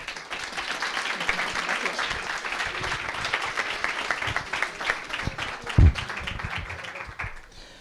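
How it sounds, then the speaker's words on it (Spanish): A studio audience claps in a loud, sustained round of applause with a few sharper individual claps standing out, continuing for several seconds. "por favor, un fuerte aplauso"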